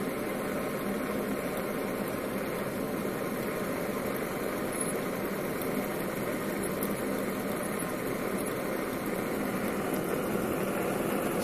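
A propane-fueled Stirling engine charging a cell phone runs with a steady, even mechanical drone and hum, constant and close throughout with no pauses.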